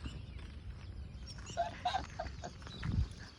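A dog near a dam makes a few brief whimpers and yelps at moderate distance over a low outdoor background, growing a little louder toward the end.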